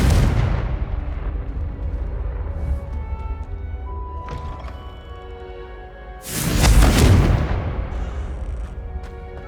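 A Confringo blasting spell in Hogwarts Legacy goes off in a loud booming explosion, then rumbles away. A second sharp, heavy blast bursts out a few seconds later over low background tones.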